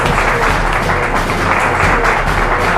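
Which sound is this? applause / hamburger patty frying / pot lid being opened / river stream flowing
applause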